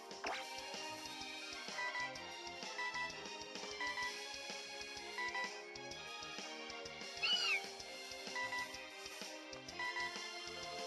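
A cat meows a few short times at moderate distance, the calls sitting over a constant bed of music without any talk.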